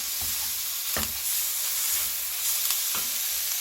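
Miyeok seaweed stir-fried in a pot for meatless seaweed soup sends up a constant hissing sizzle, with a few spaced scrapes and taps from the stirring utensil close by.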